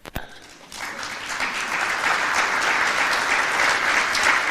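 A sharp knock opens, then a crowd at a trade union congress in Nairobi breaks into applause that swells within a second and holds as steady, dense clapping.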